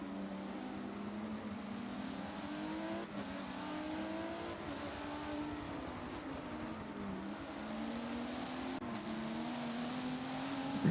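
Race car engine in a sim racing game at Brands Hatch, a faint, steady droning whine that rises and falls as the car shifts and accelerates around the circuit, with no voices.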